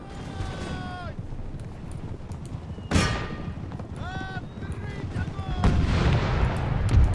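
Cannon fire from artillery loosing canister shot in a Napoleonic-era battle of the Imperial Splendour mod, a loud boom cutting sharply through a busy battlefield din of distant gunfire, horses and shouting, with voiced calls over the top.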